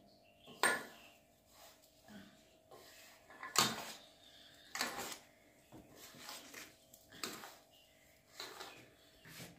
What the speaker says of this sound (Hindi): अब इसको डालकर अच्छे से हम इसको मिलाएंगे।